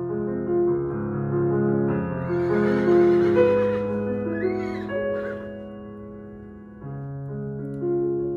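A horse neighs in a long, wavering whinny, loud and close, with a second shorter whinny near the end; no talking.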